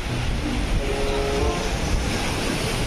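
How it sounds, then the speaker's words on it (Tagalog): Rough sea during a typhoon, a continuous broadband roar of crashing waves and surf with wind noise, loud and steady, with faint tonal sounds briefly in the middle. "naggagalit yung mga dagat o"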